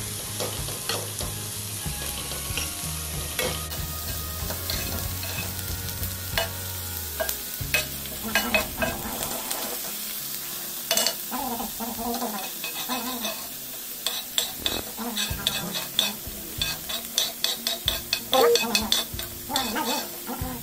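Chopped onions with salt sautéing in a pan for a vegetable-topped dosa, a continuous sizzle with a spatula stirring and scraping, the strokes growing busier and more rhythmic toward the end.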